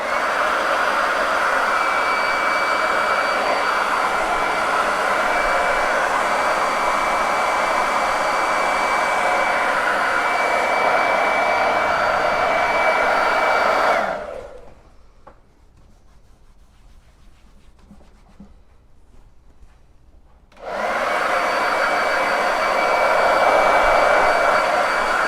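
A hair dryer blows steadily up close to dry white chalk paste on a board, running loud and continuous, cutting off for several seconds, then switching back on.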